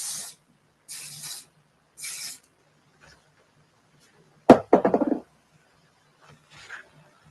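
Three short, even hissing bursts of spray onto a lace wig come first, followed later by a quieter crackling, rustling handling sound and a faint final hiss, all close and without talk.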